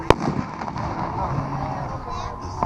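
Consumer firework called Mongolian bursting outdoors with a sharp, hard-thumping report, followed by crackling and a loud rumbling wash of sound, a smaller pop near the end, and voices faintly in the background.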